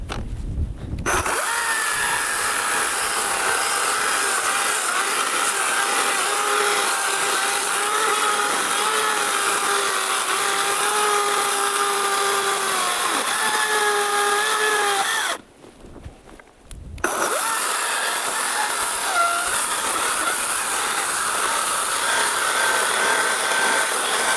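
A Procraft PKA48Li cordless battery chainsaw cuts through firewood, a loud steady motor whine with shifting pitch that runs continuously, stops briefly for about two seconds, then resumes cutting at full volume.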